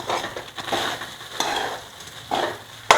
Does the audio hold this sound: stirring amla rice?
yes